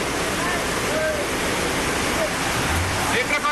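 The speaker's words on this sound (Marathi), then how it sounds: "डोंगरावरून येणारा पाण्याचा जोरदार प्रवाह महामार्गावरून वाहत होता" A strong flow of water coming down from the hills and across the Mumbai-Pune Expressway near the Khalapur toll plaza, a continuous even roar of rushing water throughout, with a faint voice barely present.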